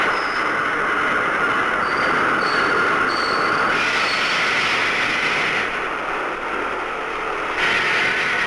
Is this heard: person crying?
no